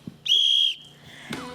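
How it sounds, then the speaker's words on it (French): A single sharp whistle blast, held briefly and loud, signals the start of a contest at a public outdoor event in Nelling, followed by faint background murmur. "au coup de sifflet"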